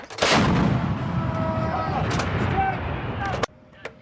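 An M777 towed 155mm howitzer fires a live round during a U.S. Marines exercise, one huge close blast followed by a long rolling rumble and echo, with voices speaking briefly around it.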